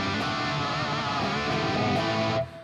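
Electric guitar through the Brit Silver amp model on a Fractal FM3, a dense, saturated chord ringing loud and close before cutting off abruptly near the end.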